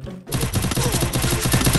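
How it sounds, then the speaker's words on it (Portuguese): Rapid automatic gunfire in the Free Fire video game, a dense rattling burst of shots following a brief silence and continuing steadily, loud and close. "Um tiro, Léo."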